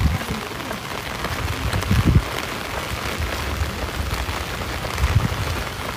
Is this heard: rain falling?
yes